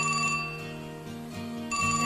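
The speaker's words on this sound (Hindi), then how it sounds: "दूसरी तरफ गौरी कौवी फोन रिसीव करती है।" A cartoon telephone rings in short repeated bursts of bright electronic tones, a clean ringtone pattern starting, pausing briefly and resuming, close and alone without any voices.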